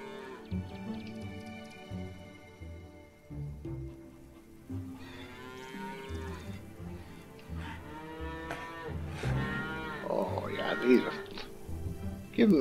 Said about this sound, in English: I've got nine beautiful cows here.